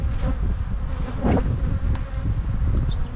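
Dense, steady buzzing of about five frames of bees at a nucleus hive close by, a continuous droning swarm with no voices.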